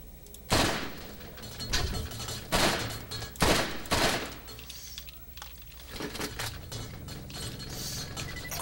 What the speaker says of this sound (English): Sure, it's a 3-shot, but it's a burst fire.